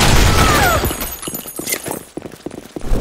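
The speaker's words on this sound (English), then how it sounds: "Fire in the hole! Fire in the hole! Grenade!" A grenade blows up in a shooter video game, a loud burst and rumbling debris up front that fades into scattered crackling pops and clattering, with no talk.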